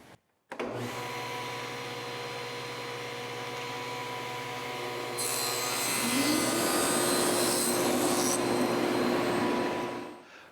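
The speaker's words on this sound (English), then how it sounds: "So now I've got my saw set at roughly 3 5/8, 3 3/8, and I'll just cut them back." Saw powering up and cutting wooden drawer pieces to height, a loud steady motor whine that deepens and grows louder as the blade bites into the wood, then spins down, no talking.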